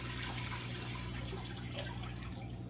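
Water streams from the outlet of a Fluval 307 canister filter as a steady, continuous rush. It is soft and even throughout, with no voices.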